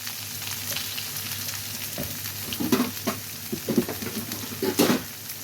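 Potatoes with crushed ginger and garlic frying in oil in a pan, with drumstick leaves to follow, give a steady, close sizzle. Several louder scraping stirs come through in the second half.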